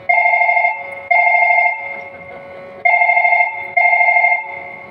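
A telephone rings in four bright electronic double bursts with short gaps, loud and close, with faint background murmur between the rings.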